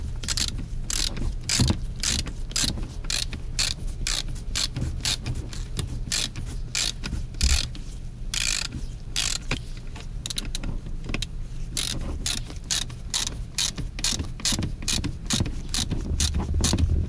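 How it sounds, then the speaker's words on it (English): A short ratchet tightens a rear seat bolt in a Chevy Colorado or GMC Canyon, giving a steady run of quick, close clicks that repeats throughout at moderate level, with no talk. "So now I'm going to use the short ratchet because I don't need the long one."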